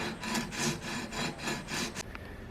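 Guitar fret marker dots sanded smooth on a fretboard, a close, steady back-and-forth rasping of about eight even strokes, then stopping.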